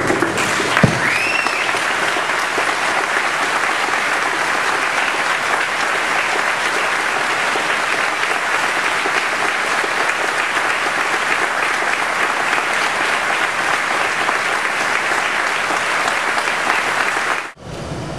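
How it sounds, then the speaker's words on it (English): A graduation ceremony crowd stands and applauds in a long, dense, steady roar of clapping that holds evenly for about seventeen seconds before cutting off sharply near the end. "let's stand and give him the applause that we would give if he could do that"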